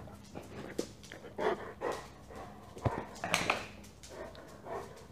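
A dog pants and whimpers close by during garage work on a car, with short huffing breaths, soft whines and scuffling over a noisy background.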